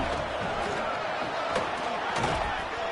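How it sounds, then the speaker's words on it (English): Stadium crowd in an NCAA college football video game, a dense, steady roar of cheering that fills the whole moment with a couple of swelling peaks. "Crowd trying to help this defense rise to the occasion."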